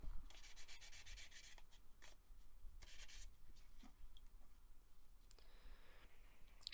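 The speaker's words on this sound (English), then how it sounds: "let's take my 2000 grit sandpaper and wet sand the entire body" A die-cast Matchbox Jaguar Mk 10 car body being wet sanded with 2000 grit sandpaper, making faint, close, repeated rubbing strokes in short bursts with brief pauses, and no talking.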